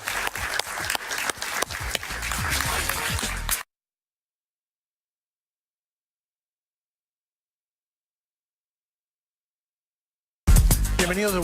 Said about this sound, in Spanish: Un aplauso para Paciano.